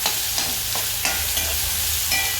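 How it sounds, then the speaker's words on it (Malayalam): Chopped onions frying in coconut oil in a clay pot give a steady, close sizzle, with a few soft stirring scrapes rising over the constant crackle. "കുറച്ച് അരിഞ്ഞു വെച്ച സബോള ഇട്ട് വെക്കാം."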